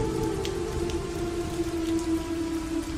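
Steady rain falls in a dense, even hiss with faint droplet patter, close and unbroken throughout, with no voices.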